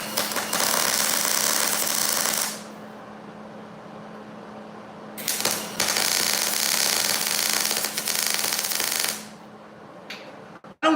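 Tack welding pieces of scrap metal for a homemade stand: long loud bursts of harsh crackling arc buzz, a couple of seconds each with pauses between, plus a short final zap; no talk.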